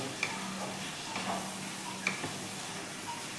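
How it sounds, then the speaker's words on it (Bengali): Chicken in posto sauce gets stirred in a pan with a spoon, giving faint scraping strokes and a few light clinks over a low steady sizzle. "আঁচটা একবার বাড়াবো দিয়ে চিকেনটাকে একটু নাড়িয়ে নেব"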